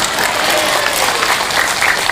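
Audience applause breaks out at an Indonesian religious sermon, a steady dense clatter of many hands clapping close and loud for the whole stretch, with no voices over it.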